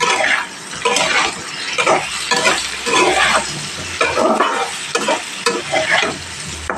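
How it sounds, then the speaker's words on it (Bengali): A spatula works through white potatoes with black pepper and turmeric in a hot frying pan. Oil sizzles underneath as the stirring scrapes come in repeated, fairly loud strokes close by. "দশ সামান্য হলুদ দিয়ে ভালোভাবে নাড়াচাড়া করে নিতে হবে"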